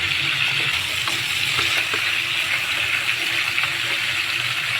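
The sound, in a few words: salmon head sautéing in a pan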